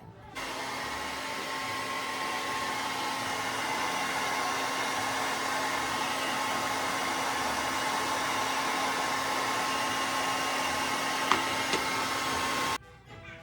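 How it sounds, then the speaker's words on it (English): A hair dryer runs at a steady, loud whoosh while blow drying bleached hair, switching on near the start and cutting off just before the end, with no talking over it. "let me blow dry it"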